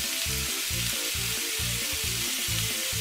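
Flat beans go into a pan already frying sliced potatoes for a Bengali bean and potato bhaji, with constant loud sizzling and a rhythmic scraping and stirring pulse.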